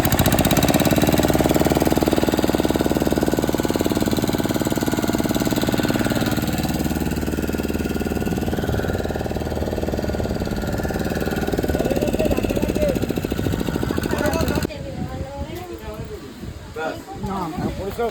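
A boat engine chugs loudly and steadily nearby with a rough, knocking rhythm, then drops away near the end, while people talk over it.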